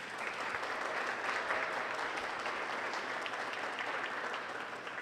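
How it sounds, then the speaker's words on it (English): Sustained, even applause from an audience honoring contestants at the Oklahoma Czech-Slovak Royalty Pageant, a dense wash of clapping heard from some distance without a break. "Let's give all of the contestants a round of applause."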